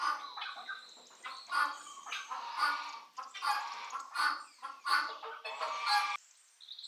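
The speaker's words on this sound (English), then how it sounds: "Chicken." A chicken clucks repeatedly in steady, close bursts that continue for several seconds, then stops. No voices are heard.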